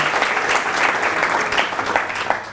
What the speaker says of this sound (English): Anne, because you definitely need a round of applause.